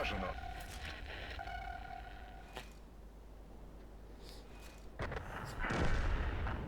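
Artillery shells land in World of Tanks during a match on the Pass map, with sharp booming impacts at the start and around the five-second mark over low engine rumble and game effects.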